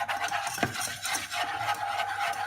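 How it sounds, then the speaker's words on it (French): A butter and flour roux for béchamel being stirred in a pan off the heat, making a continuous close scraping and swishing with a few soft knocks of the spoon. "Et je mélange jusqu'à ce que ça fasse une belle épaisseur."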